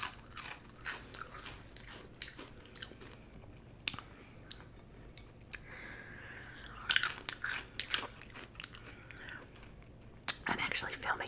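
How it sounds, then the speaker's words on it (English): Pizza is bitten and chewed close to the microphone in a mukbang, with irregular crunchy bites and soft wet chewing throughout, plus faint whispering. "There's a lot of chewing."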